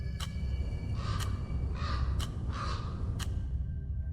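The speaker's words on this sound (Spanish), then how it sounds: "Tras 3 graznidos del cuervo, la oscuridad se vuelve sombría." A crow caws three times, harsh raspy calls spaced about a second apart and heard at moderate distance over a steady low rumble.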